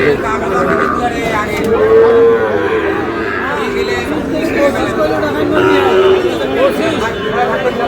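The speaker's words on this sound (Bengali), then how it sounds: "শাহিওয়ালের ষাঁড় ছিলাম এখানে।" A Sahiwal bull at a cattle market moos several times, with low drawn-out calls rising over a dense background of crowd chatter and hubbub.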